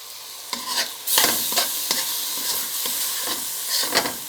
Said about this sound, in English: Let me just stir it a bit.